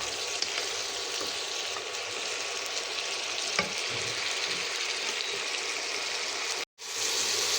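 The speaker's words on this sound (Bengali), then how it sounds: "একটু পরপর আমি এমন করে হালকা হালকা করে নাড়িয়ে চাড়িয়ে শসাটাকে ব্রাউন কালার করে ভেজে নিব।" Cucumber pieces frying in a pan and stirred now and then until browned: a steady, close, even sizzle runs throughout with no talk and cuts out briefly near the end.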